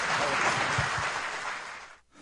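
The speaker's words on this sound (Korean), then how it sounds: "수고해주신 두 분께 다시 한번 큰 박수 부탁드립니다." A room full of people at a Gwangju convention center event claps steadily, a dense wash of applause that fades out toward the end.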